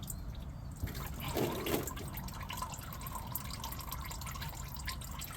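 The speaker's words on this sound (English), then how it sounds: "So I'm just gonna kind of hold it to drain this filter." Oil trickling and dripping from a Toyota OEM oil filter as it is held to drain, a soft continuous liquid dribble with a brief louder splash near the start, close and quiet.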